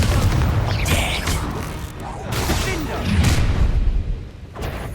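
Confringo explosion spell cast in combat in the Hogwarts Legacy video game, loud booming blasts and whooshes pressing on through dense battle noise, with a voice calling out over the fight.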